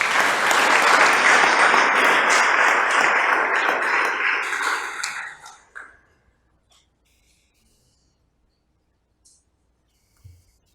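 An audience at a book presentation and legal conference claps loudly and steadily for about five seconds, then the applause fades quickly into near silence with a few faint knocks.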